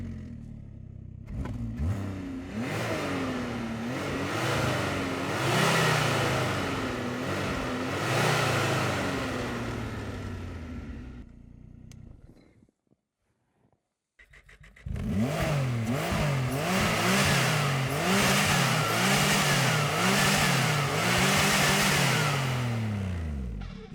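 Two snowmobile engines, an original Ski-Doo and a Chinese copy, start and run loudly with repeated revving swells, a brief silent gap near the middle, then run and rev again up close.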